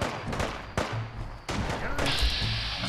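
Gunfire bursts in the video game Fallout 4 during the Far Harbor expansion, a few loud sharp shots spaced through a busy mix of game effects, with no talk over them.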